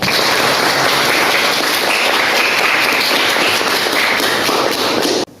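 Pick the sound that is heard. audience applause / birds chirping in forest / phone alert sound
audience applause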